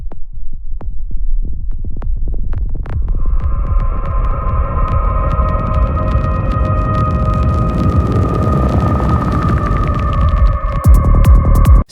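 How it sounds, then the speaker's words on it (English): Kick and bass processed through Ableton's grain delay, a dense rapid throbbing pulse that builds into a loud sustained hum with layered tonal drones, continuous and alone. "essentially I used Ableton's grain delay to create this effect on the kick and bass"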